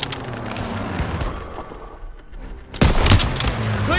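Gunfire in Call of Duty WW2 during a stronghold battle: a dense rattle of distant shots that thins out, then a loud close burst of rapid fire.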